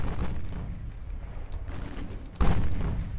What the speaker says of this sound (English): Jean Bart, open fire, all guns.